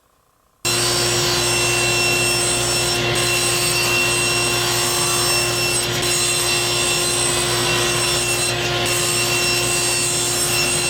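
A power saw cuts half-inch plywood pieces for box walls with a continuous loud, steady whine and rasping bite through the wood, starting abruptly after a brief silence and running close without pause.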